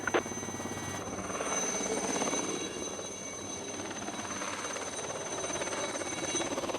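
Police helicopter hovering nearby, its rotor chop and turbine whine steady and fairly loud throughout, with no talking.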